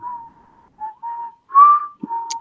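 Whistling of the Jeopardy theme tune: a single clear whistled melody of several sustained and gliding notes, close and fairly loud, with short gaps between phrases and a brief low thump near the end.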